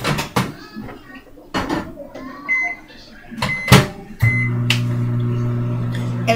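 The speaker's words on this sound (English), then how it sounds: "put it in there in the microwave for like 30 more seconds" A microwave oven starts humming steadily partway through, after a series of kitchen clatters, door clicks and brief talking.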